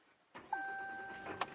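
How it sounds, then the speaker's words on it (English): A 2014 RAM 3500 Longhorn pickup's engine cranks and catches with a sharp start, then settles into a steady idle close by, with a faint electronic chime tone running through it and a brief click near the end. "Okay, let's start her up here. So key in the ignition"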